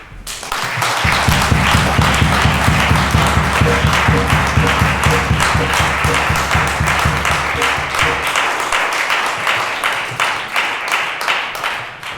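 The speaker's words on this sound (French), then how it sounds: "Si nous disons acclamer pour Dieu, nous devons vraiment acclamer correctement." Church congregation clapping and cheering for God in a loud, steady burst of applause, with a rhythmic low drum or bass pulse underneath for most of it before the clapping continues more loosely near the end.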